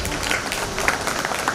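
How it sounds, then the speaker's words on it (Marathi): A crowd claps in applause at a school annual day function, a dense continuous patter at moderate distance, with faint voices mixed in. "तो मॅडमसाठी टाळ्या"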